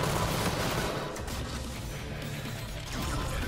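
Gunfire in the video game Infinite Warfare: a dense, continuous barrage of automatic shots and crashing impacts, loud and sustained throughout with no pauses.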